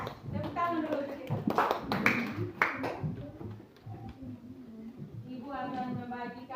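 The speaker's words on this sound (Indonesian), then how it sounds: "Tepuk tangan dulu kita." A school class claps hands together in a classroom lesson, a short burst of scattered, fairly close claps among voices, with a teacher's speech continuing before and after.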